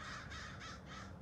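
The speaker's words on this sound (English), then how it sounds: "There go a bunch of black crows." A flock of black crows caws loudly outdoors, repeated harsh calls rising and falling in three or four bursts over a steady background.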